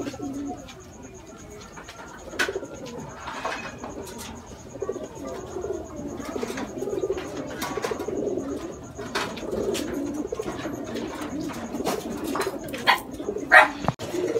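Racing pigeons in a loft cooing repeatedly in soft, low rolling calls, with occasional wing flaps and clatter close by and faint talk in the background.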